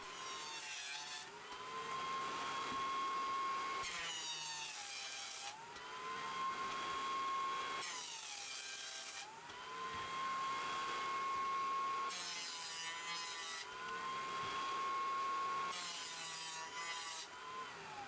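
A small jointer planes the edges of a 2x4 board in several passes. A steady motor hum rises into a rough, rasping cutting noise with each pass, about five times, with short pauses between.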